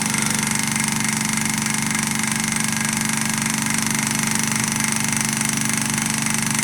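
A beta Stirling engine running continuously, a steady dense mechanical whir with a fast even pulsing rhythm, close and constant throughout without any talk.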